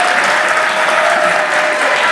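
An audience at a Makar Sankranti dance performance applauds in a loud, dense, sustained wash of many hands clapping, steady throughout with no breaks.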